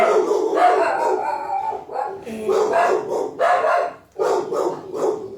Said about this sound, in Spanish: el ladrido de mi pequeño pitbull